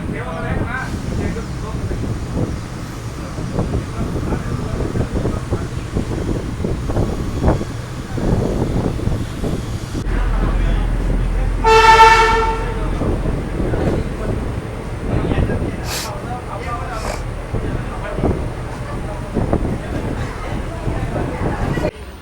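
A train pulling into Chanderia railway station in Rajasthan, with heavy wind buffeting the microphone and a low rumble throughout, then a loud horn blast midway before the rumble continues.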